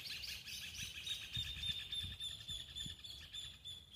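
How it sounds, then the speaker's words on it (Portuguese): Birds chirp and sing steadily in a quiet rural landscape, with dense overlapping high tweets throughout and faint low rustling beneath, no voices present. "O cantar dos passarinhos, o silêncio."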